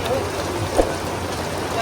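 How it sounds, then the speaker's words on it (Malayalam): Heavy rain pours steadily during a boat trip in Kuttanad, a dense even hiss with a single brief knock partway through, and voices faintly present. "മഴയെന്ന് വെച്ചാൽ ഭയങ്കര മഴ"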